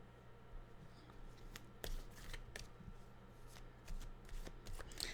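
Tarot cards are shuffled by hand close to the microphone, soft riffling and slapping bursts repeating in quick irregular rhythm, quiet and alone.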